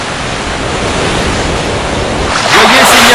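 Water surface and waves in the Tomb Raider video game: a steady broadband wash of lapping water runs throughout, growing louder and brighter near the end as a voice speaks briefly over it.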